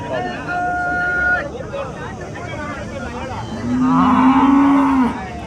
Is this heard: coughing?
no